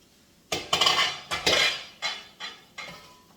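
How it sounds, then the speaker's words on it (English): Asparagus is stirred in a pan with a utensil, a run of close metallic scrapes and clinks in uneven bursts that grow fainter toward the end, with no speech. "we're going to give that a stir that up a bit"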